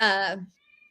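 A cat gives a single short, tonal meow up close, then falls quiet.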